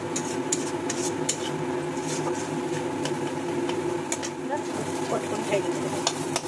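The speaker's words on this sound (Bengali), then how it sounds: "ভাজতে ভাজতে দেখবেন কালারটা কেমন ভারী ভারী কালার চলে আসবে।" Bharta mash fries in a hot pan as a spoon stirs and scrapes it continuously, a dense steady sizzle with small clicks of metal against the pan throughout.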